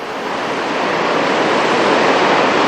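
A whitewater rapid on the New River during a rafting run gives a loud, continuous, close roar of churning water, alone and without voices.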